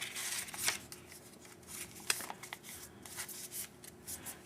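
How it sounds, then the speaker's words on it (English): Sheets of paper folded in half and creased for a paper pumpkin decoration, giving soft crinkly rustles with a sharper crisp snap partway through, close and fairly quiet. "Fold it in half. Form a crease."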